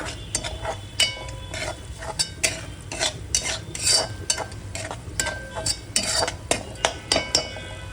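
A spoon or spatula stirs and scrapes garlic chili paste with turmeric in a pan in quick, repeated metallic clinks, with a low sizzle underneath that runs the whole time.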